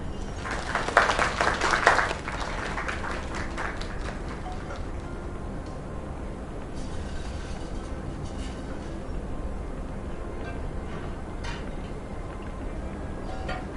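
A crowd applauds after a live performance. The clapping is dense and lively for the first two seconds, then thins to scattered claps and faint room noise.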